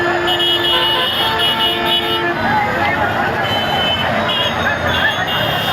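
Busy road during a festival crowd, a loud continuous wash of engines and traffic noise with a long horn toot early on and people talking throughout.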